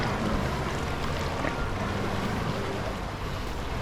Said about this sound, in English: And they're the biggest natural waves